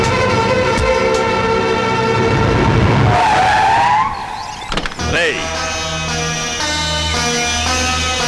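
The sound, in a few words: car skidding to a sudden stop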